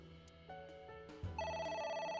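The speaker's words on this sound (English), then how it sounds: "It's ringing again." A telephone rings in AI: The Somnium Files, a faint electronic ring that starts softly and turns into a steadier repeating tone toward the end, heard alone without talk.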